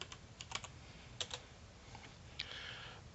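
Keys tapped on a computer keyboard in a quiet room, a few sparse, light clicks followed by a short quick cluster, close and fairly faint.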